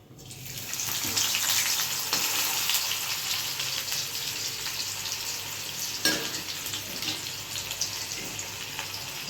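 Cumin seeds and chopped onion frying in hot oil in a pan, a loud, steady sizzle with occasional stirring scrapes, close up and continuous with no talk.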